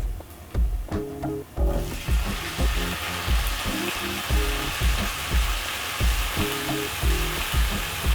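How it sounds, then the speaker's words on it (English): Tomatoes go into frying onions on a medium-high flame for an egg stew, and a broad sizzle swells up and continues, close and fairly loud, over rhythmic background music. "Now that my onions are ready, I'm going to turn the flame on medium-high. Then I'm going to add my tomatoes."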